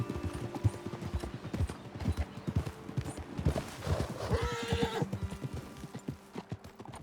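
Horses' hooves clip-clop steadily in Red Dead Redemption 2 as riders approach a ledge overlooking a road, with a horse whinnying partway through, close and clear.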